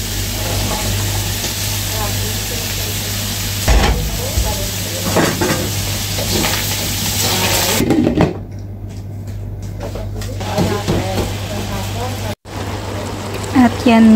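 Vegetables stir-fry in a pan for pansit, a steady sizzle with scraping and tossing strokes throughout and a short drop in the middle. A voice is heard faintly at times.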